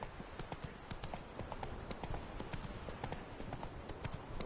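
Horse hooves clip-clopping at a steady galloping rhythm as Roach runs in a PS4 video game, loud and dense throughout, with occasional voice in the background.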